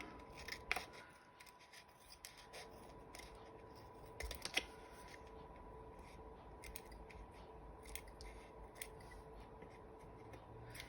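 A dried paper craft piece is cut, with a few faint, crisp snips and rustles scattered through a quiet stretch and no talking.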